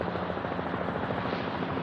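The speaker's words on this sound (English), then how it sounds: "Helicopter." A helicopter flying overhead, its rotor chopping in a rapid, steady rhythm at moderate distance throughout.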